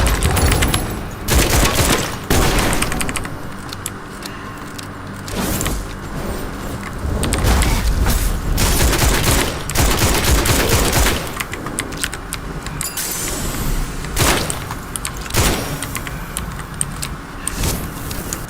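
Shotgun blasts in the Witchfire video game, loud and repeated in bursts over dense game action, explosions and rumbling effects, with no talking.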